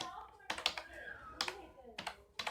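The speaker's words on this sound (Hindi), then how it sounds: "इसमें एक नोट्स ऐप खोल लिया है जिसमें हम टाइप करके देख सकते हैं।" Typing on a Logitech K480 keyboard, short bursts of quick close key clicks separated by brief pauses, with a voice speaking faintly underneath.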